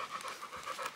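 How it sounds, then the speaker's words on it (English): A stray dog pants rapidly and rhythmically close by, quick repeated breaths with no voices over them. "We got a stray dog."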